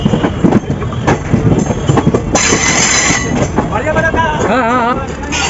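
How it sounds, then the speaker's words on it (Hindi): Moving train overtaking the stationary Danapur Secunderabad Express, heard from inside a sleeper coach: steady loud rumble and wheel clatter, with a rising roar midway and a wavering tonal squeal near the end. "बाकी इस साइड से अपनी ट्रेन ओवरटेक करी अपनी दानापुर सिकंदराबाद एक्सप्रेस को।"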